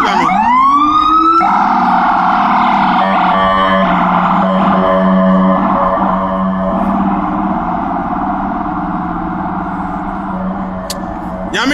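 An ambulance siren in Ghana wails loud and close, opening with rising sweeps before settling into a steady, layered electronic tone that runs without a break for the whole stretch.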